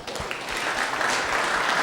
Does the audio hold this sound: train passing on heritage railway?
no